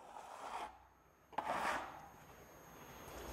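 A putty knife scrapes across a wall surface in two soft, short strokes while creating a basic bevel, with a faint hiss between them and quiet room tone.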